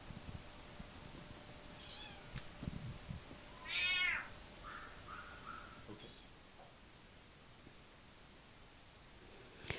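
A three-year-old male tabby cat meows once, a short rising-and-falling call near the middle, followed by a few fainter chirps in a quiet room.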